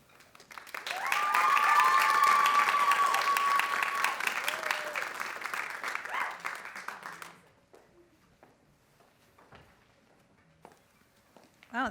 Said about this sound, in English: Wow, that was quite the cheer.